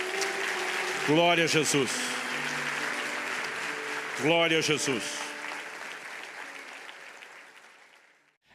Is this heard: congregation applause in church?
yes